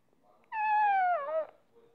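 One clear, drawn-out cat meow from the video game Fallout Shelter, with a slightly falling pitch, heard alone against near silence.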